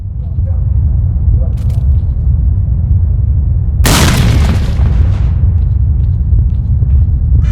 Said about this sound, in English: Let's see, I have a grenade, don't I? There we go. Let's try it.